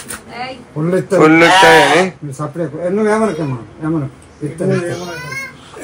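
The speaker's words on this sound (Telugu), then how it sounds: "సో పూజ కోసం ఇది తీసుకొచ్చాము మేకని" A goat brought for a Satyanarayana Swamy puja bleats loudly and repeatedly at close range, its wavering cries mixed with nearby voices talking.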